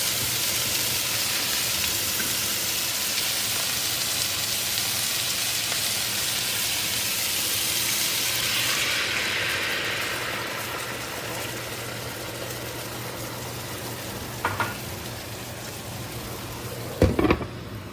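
Chicken sizzles steadily in teriyaki sauce in a covered pan, a constant crackling hiss that softens partway through, followed by a few brief clinks near the end.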